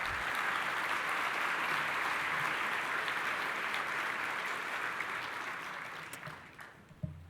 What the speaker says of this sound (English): One more round of applause for all of tonight's honorees